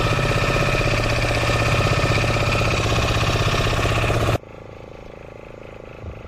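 A fishing boat's engine runs loud and steady with a rapid mechanical knock, then drops abruptly to a much quieter idle near the end.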